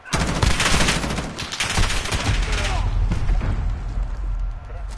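Rapid bursts of AK rifle fire in a Modern Warfare match, loud and close, rattling continuously for several seconds with a lower rumble underneath and game voices and radio chatter mixed in.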